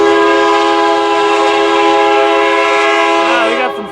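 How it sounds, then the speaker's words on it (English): Oil freight train on a Norfolk Southern line rolling past, a loud steady drone of sustained harmonic tones like horn or wheel squeal that holds throughout and shifts in pitch near the end as it fades slightly. "it's an oil train, that's for sure"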